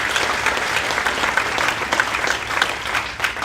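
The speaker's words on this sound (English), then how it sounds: "So just a round of applause for Roscoe" Steady audience applause at a school district state-of-the-district gathering, a dense even patter of many hands clapping, with no talking over it.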